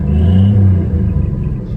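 A 1956 Chevy 210 engine idles steadily just after firing up, a loud, close, continuous low rumble with a slight uneven throb and no talking.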